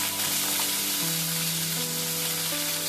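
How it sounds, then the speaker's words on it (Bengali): Cauliflower and beetroot sizzle and crackle steadily in hot oil, a close, continuous frying hiss with no talking. "ফুলকপি আর বিটটাকে আমি 2 মিনিটের মতো ভেজে নেব"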